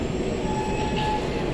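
A DLR light rail train pulls into a station, a steady rumbling roll of wheels on track with a faint high squeal running through it, heard close and continuous with no voices.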